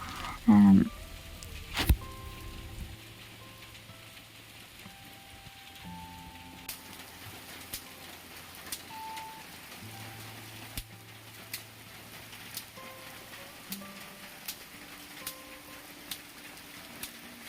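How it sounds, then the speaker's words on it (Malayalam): Heavy rain falls steadily outside a house, a soft continuous patter with scattered louder drips and taps, heard fairly near and with brief talk at the start. "അപ്പോൾ അത് നല്ല മഴ പെയ്തുകൊണ്ട് നിൽക്കുന്നുണ്ട് കേട്ടോ"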